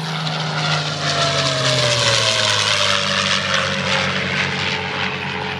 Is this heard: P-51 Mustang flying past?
yes